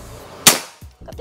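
A single sharp, loud pop of a PCP air rifle shot from a Predator Ghost Warrior filled to 2700 PSI, followed by a brief quiet and some faint low thumps.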